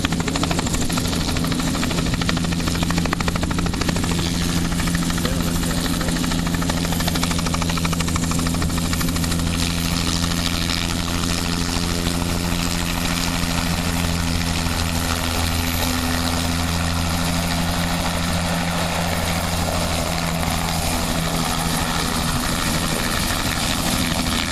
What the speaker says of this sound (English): These helicopters out, getting really close.